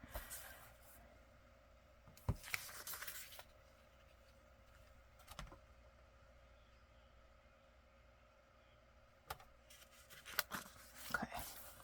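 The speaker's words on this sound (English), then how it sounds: "I'll trim that with scissors." Scissors trim a brown paper envelope in a few short bursts of snipping and paper rustle, quiet and close, separated by near silence.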